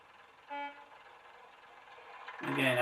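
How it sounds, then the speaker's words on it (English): A Bachmann sound-fitted model diesel multiple unit starting its engine: a brief horn-like tone, a low steady hum, then a louder rising rumble as the motor fires up near the end. "And here we have the engine starting."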